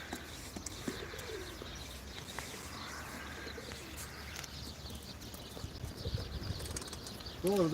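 Pigeons coo softly amid a busy flock at a live pigeon auction, with occasional wing flaps and chirps, and a brief murmur of voices in the background.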